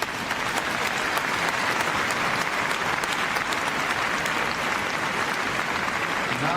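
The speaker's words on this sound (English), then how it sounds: "Give them a round of applause." Applause from the arena audience at Crufts 2018 dog show Best in Show judging, a full, even wall of clapping from a large crowd lasting several seconds without a break.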